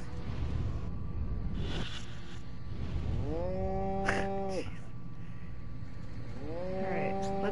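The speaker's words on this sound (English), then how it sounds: "Zombie cows." Zombie cows from the 2005 game Destroy All Humans! on PS4 give two drawn-out, groaning moos, one in the middle and a second near the end, over a steady bed of game background noise.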